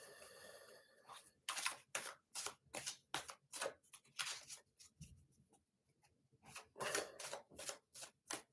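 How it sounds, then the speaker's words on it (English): Tarot cards are shuffled and pulled in a quiet room, a run of crisp riffling and snapping bursts in quick irregular rhythm, close and fairly soft, with a short pause before more shuffling. "Let's pull some cards and see what's going on here for Yosera."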